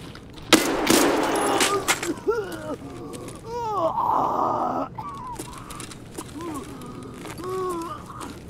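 Gunfire bursts out in Escape From Tarkov, a dense loud volley at the start followed by scattered shots, mixed with grunting and gasping vocal sounds and a short sustained mechanical noise in the middle.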